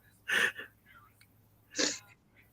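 A person sneezes twice, two sharp close bursts a little over a second apart in a quiet room, with faint breathy sounds between them.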